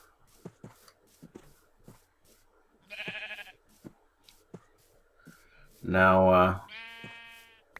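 Sheep in the Minecraft video game bleat twice, a short nasal call and then a louder, longer one, amid soft clicking and shuffling, with a voice speaking briefly.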